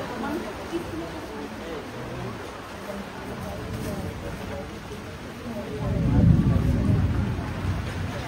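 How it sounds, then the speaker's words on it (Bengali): Steady rain hiss from a storm shaking banana trees, with a low rumble of thunder swelling near the end, heard from nearby without clear talk. "পাশের সাউন্ড শুনে বুঝতে পারছো কেমন ঝড় বৃষ্টি হচ্ছে"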